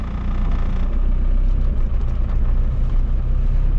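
A Land Rover diesel engine drives, giving a loud, continuous low rumble and rattle from inside the vehicle with no pauses and no talking.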